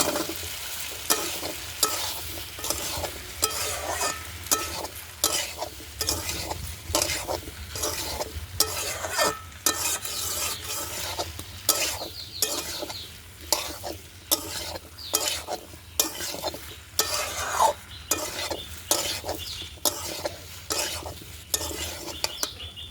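Potato and taro pieces frying with prawns in oil, sizzling steadily while a spoon or spatula scrapes and stirs in quick repeated strokes, close and fairly loud with no talk.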